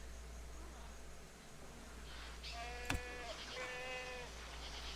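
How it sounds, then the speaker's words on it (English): Goats bleating in the city-building game Tropico 5, a couple of short wavering cries near the middle over low ambient game sound, faint and with a sharp click between them. "Those goats sound like Chewbacca."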